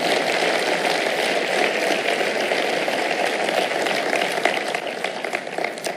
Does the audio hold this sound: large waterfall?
no